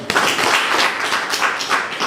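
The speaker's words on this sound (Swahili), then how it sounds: "Naomba tumpigie makofi mengi sana" A crowd at a Tanzanian public meeting claps loudly and close, an uneven patter of hands with small swells and dips across the whole stretch.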